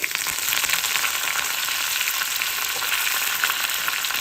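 Dried red chillies, garlic and curry leaves fry in hot oil for a chutney tempering, giving a loud, dense, continuous sizzle close up with no voices.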